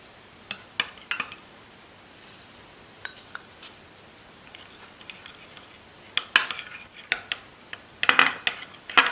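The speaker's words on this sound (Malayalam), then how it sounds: "നന്നായി മിക്സ് ചെയ്യുക." A homemade oat face pack is stirred in a small bowl, with soft scraping and scattered clinks of a spoon against the sides that grow busier and louder toward the end.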